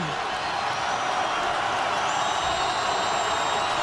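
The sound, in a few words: stadium crowd cheering at a college football game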